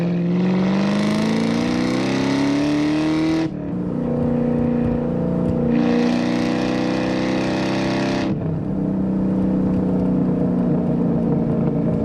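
A supercharged 4.6-litre V8 in a 2003 Ford SVT Cobra convertible with a six-speed manual roars loudly up through the gears, with two brief lifts between shifts and the engine note climbing each time.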